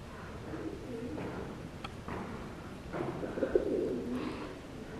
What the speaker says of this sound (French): On entend les pigeons.